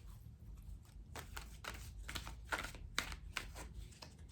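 Tarot cards pulled from a deck, a run of crisp, close card snaps and flicks, with a few sharper clicks toward the end and no talking.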